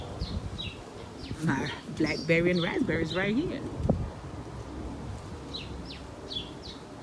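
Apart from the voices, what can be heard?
birds chirping in a garden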